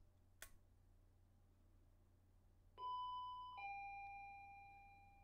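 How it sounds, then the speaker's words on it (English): A two-tone electronic doorbell chimes once, ding then dong, clear and close in an otherwise quiet room, with a soft click just before. "I wake up to the sound of the doorbell."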